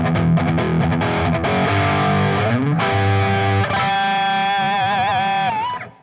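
A heavily distorted electric guitar plays a galloping intro riff, loud and dense, then slides into wavering sustained notes with vibrato that cut off abruptly.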